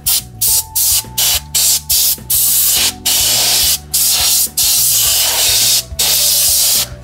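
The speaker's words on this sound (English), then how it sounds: "So I'm just gonna give a quick spray can" A can of compressed air sprays in loud, forceful hissing bursts at close range while cleaning Corsair Vengeance Pro DDR3 RAM modules, about a dozen blasts of varying length in quick succession.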